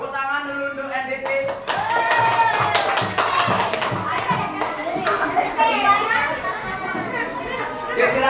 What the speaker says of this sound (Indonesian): tepuk tangan dulu untuk NDT